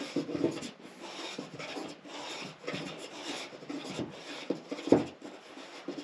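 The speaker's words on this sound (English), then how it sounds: "I'm getting a shaving, but it's pretty fine." A small hand plane, set for an extremely fine cut, shaves thin wood curls in repeated rasping strokes that are close, dry and moderately soft, with no voices.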